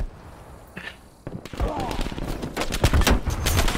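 Bursts of pistol gunfire from a first-person shooter game, a few quick loud cracks followed by a denser run of rapid shots and thuds, close and punchy amid game noise.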